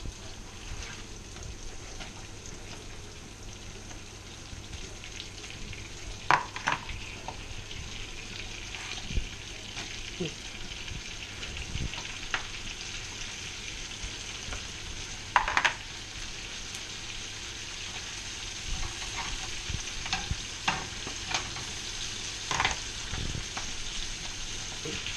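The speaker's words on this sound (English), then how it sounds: "Put your spinach in the pan." Spinach fries in a pan for an omelette, a steady soft sizzle with occasional sharper crackles and scraping clatters as it is flicked and stirred, with no talk.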